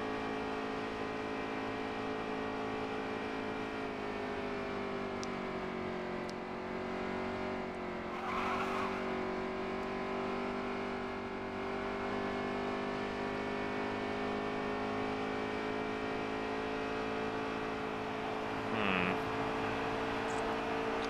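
A NASCAR race car in NASCAR Heat 3 drones at a steady, high engine pitch down a long straightaway, a continuous sustained whine with a brief tyre squeal near the end.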